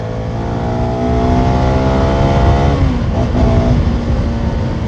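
A 250cc motorcycle engine, a Pulsar N250 or CF Moto SR 250, revs hard and loud, its rising whine holding steady, then dipping briefly as it shifts before climbing again, with no voices.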